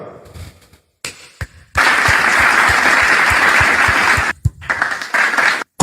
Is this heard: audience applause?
yes